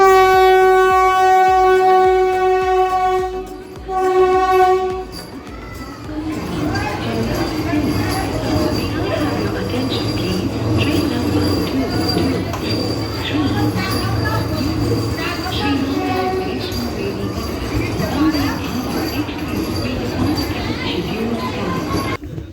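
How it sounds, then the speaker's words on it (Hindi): A Vande Bharat Express train rolls into the station with a steady rumbling roar and rail clatter, preceded by a brief tonal horn-like melody, with voices and station bustle around it. "फाइनली वंदे भारत आ गई है।"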